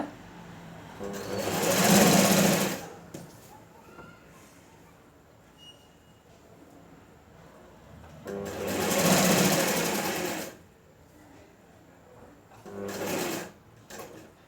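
Sewing machine stitching the piping along a blouse hem, running in three bursts of a few seconds each with quiet pauses for handling the cloth in between, close and fairly loud.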